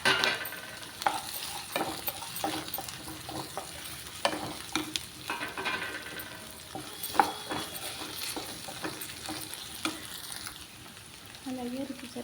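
Taro root and onions fry in oil in a pan for an egg curry, a continuous close sizzle broken by scraping stirs and light utensil clinks.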